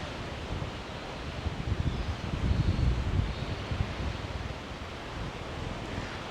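A strong breeze of around 25 knots blows across the exposed side of Low Island off Cairns, a broad rushing roar with gusts swelling in the middle, buffeting the microphone with no one talking.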